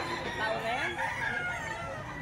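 Pumpkin Sweater rooster for sale, crowing once up close with a drawn-out, wavering call over a noisy outdoor background.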